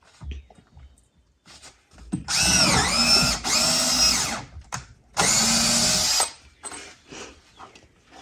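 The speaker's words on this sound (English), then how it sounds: "Drill a hole." A power drill bores a pilot hole for a window screw during a larger window installation, whining in two loud bursts of about two seconds each, pitch dipping under load and separated by a short pause and a few clicks.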